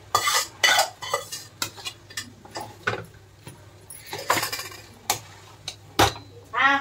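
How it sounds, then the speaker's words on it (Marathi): Cooked rice being stirred into egg masala in a pan, with repeated sharp clinks and scrapes of a utensil against the pan over a faint sizzle, close and rhythmic. "आता हा झालेला भात आपण टाकूया. आता याला मिक्स करूया आपण छान."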